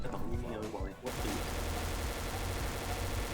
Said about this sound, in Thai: เรายิงทางนู้นแล้วครับ ยิงเล่นเลย